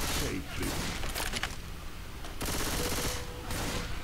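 Bursts of heavy machine-gun and shotgun fire in the video game Left 4 Dead 2 on a custom map, loud sustained volleys broken by short pauses, with a player's voice over the shooting.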